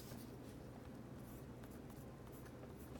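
An upgraded Cross Click ballpoint pen writes on paper, giving a faint, close, continuous scratching and rubbing with no talk over it.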